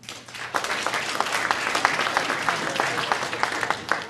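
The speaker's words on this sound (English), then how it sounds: "Clap if you are against spanking children." An audience at a comedy show at the Kennedy Center breaks into applause, a steady wash of clapping that starts suddenly and holds for a few seconds at moderate volume.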